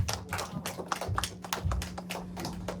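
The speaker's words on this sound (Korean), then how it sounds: "우리 주님께 영광의 박수 함께 올려드릴까요?" A church congregation claps together in worship, a steady run of many hand claps filling the room at moderate loudness, with a low hum underneath.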